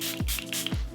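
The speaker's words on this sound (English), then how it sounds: "I'm gonna spritz my face real quick with the Charlotte Tilbury airbrush" Charlotte Tilbury Airbrush Flawless setting spray is spritzed close up, two quick hissing pumps in rapid succession.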